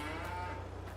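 Cows mooing in the Farming Simulator 22 video game, a brief steady low lowing tone that fills the moment alone.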